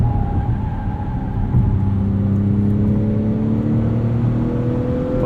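A 2021 Acura TLX SH-AWD with a 10-speed transmission accelerates out of a corner, its engine droning steadily and rising slowly in pitch as it holds a gear near 5,000 RPM, heard close from inside the cabin with tire and road rumble.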